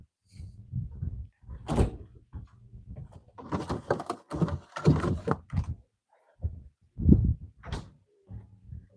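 A door is opened and closed indoors, making a string of thuds, knocks and clicks spread over about nine seconds with short quiet gaps between them.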